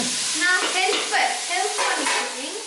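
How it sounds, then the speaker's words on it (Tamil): Curry leaves sizzle in hot oil in a pan during dinner cooking at home, giving a steady close crackle with some stirring over it. "கருவேப்பிலை உருவி போட்டாங்க."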